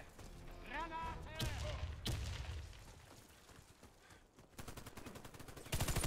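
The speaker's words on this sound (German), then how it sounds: "Ah, Granate! Granate!" Grenade blast and gunfire in the shooter game Warface: a muffled boom is followed by rapid bursts of automatic fire, sharp and close near the end, with a voice speaking over the first part.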